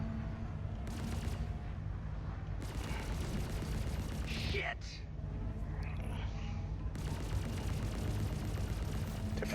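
Ship weapons fire in rapid bursts at a bounty target during a Star Citizen space fight, dense and loud with repeated volleys and short pauses, and a voice mutters briefly over it.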